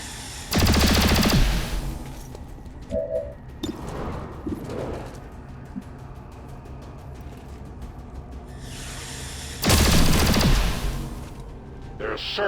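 Two heavy weapon discharges from Praetor Mox in XCOM 2, loud broadband blasts spaced about nine seconds apart, with quieter mechanical game sounds between them.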